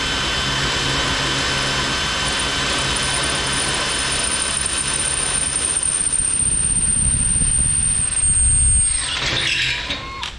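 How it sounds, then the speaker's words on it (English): Compressed air from a shop air hose hisses and blows steadily beside a tool cart clamped for drilling, a loud continuous rush that swells toward the end and then cuts off. "I went ahead and broke out the air hose."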